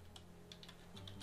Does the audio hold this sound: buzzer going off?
no